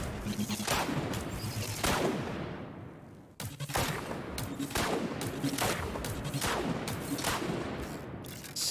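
Rapid bursts of exotic weapon fire from Queenbreaker in Destiny 2, a dense sustained fusillade of shots broken by a brief pause, loud and close with no talk.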